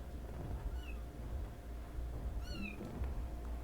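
Cat meowing twice, a short mew followed a second or so later by a longer, clearer meow, heard fairly close over a low steady background hum.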